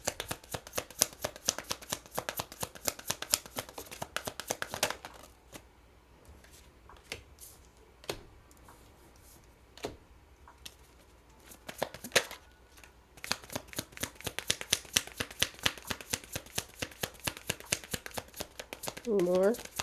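Tarot cards are shuffled in rapid riffling bursts of crisp flicks, which pause at times and then start again, while a voice talks softly in between.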